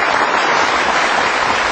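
A tournament crowd at the 9-ball world pool championship in Kaohsiung bursts into steady, dense applause after a shot, filling the short stretch evenly with clapping.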